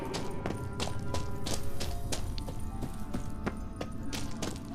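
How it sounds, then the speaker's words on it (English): Horse hooves clip-clop in a steady, fairly close rhythm of sharp impacts in The Witcher 3 video game, heard alone over a low background rumble. "Kelpie. Another horse. Almost exactly like the last one."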